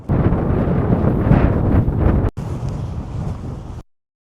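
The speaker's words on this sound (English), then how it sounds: "still very windy." Strong wind near Glastonbury Tor, Somerset, buffets the microphone with a loud, rumbling roar that continues throughout, briefly dropping out before resuming.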